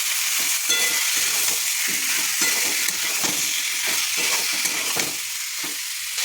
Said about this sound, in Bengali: কাশ্মীরি লঙ্কার গুঁড়ো, একটু টমেটো সস, সেদ্ধ করা আলু, মটরশুঁটি সব দিয়ে ভালো করে